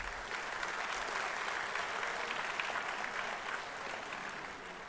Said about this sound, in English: let me also raise a loud cheer for the success of the Chandrayaan mission.